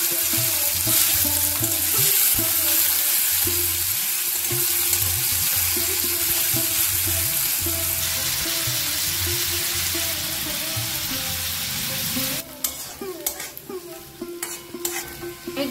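Chopped watermelon rind fries in oil with dry chillies and fennel for a sweet-sour chutney, a loud, close, continuous sizzle with steady stirring scrapes, becoming choppier and more clattery near the end, no voices.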